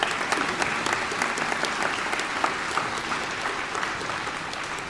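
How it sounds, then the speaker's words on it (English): Audience at a Veteran's Day high school assembly claps steadily and loudly, a dense sustained applause filling the hall for about five seconds with no talk over it. "Yes, she deserves applause."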